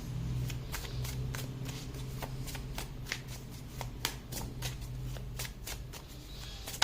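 Tarot cards shuffled repeatedly in a steady run of quick riffling flicks, close and fairly quiet over a low background hum.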